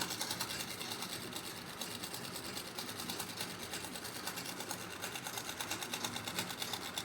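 A sewing machine stitches a salwar seam in a continuous fast, rhythmic whir with a regular ticking pulse, heard close and steady throughout without any talk.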